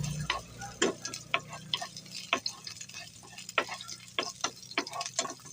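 Garlic and onion sauté in a pan for Filipino beef bopis, a steady sizzle broken by repeated sharp clicks and scrapes of stirring, close and moderately loud with no voices.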